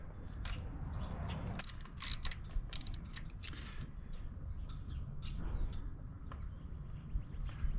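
A ratchet tightens a spark plug on a Jeep JK, giving sharp, irregular clicks and metallic ticks over a low, steady background rumble, close and soft.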